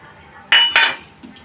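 A utensil clinks twice against a bowl while vada batter ingredients are mixed, two quick metallic strikes close up, then a faint scrape in a quiet room.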